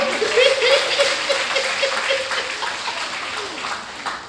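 A church congregation at a service breaks into dense, sustained applause, heard steady and fairly loud with faint voices beneath it.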